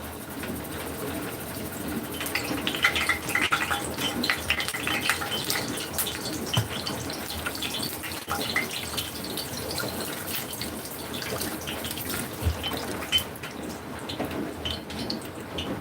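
A kitchen tap runs steadily while hands are washed before cakes are pressed into a pan, a continuous moderate gush of water splashing in a sink with no talk.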